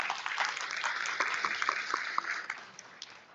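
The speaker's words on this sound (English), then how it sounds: "So welcome him on stage with a really warm applause" Warm applause from a conference audience welcoming a professor on stage, many hands clapping steadily at moderate volume before tapering off near the end.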